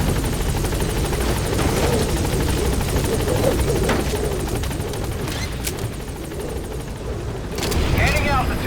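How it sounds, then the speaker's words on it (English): A support helicopter in Metal Gear Solid V: The Phantom Pain beats steadily close by, its rotor drone continuous through the scene with bursts of gunfire and sharp effects near the end, under a game voice announcing. "Support helicopter has arrived."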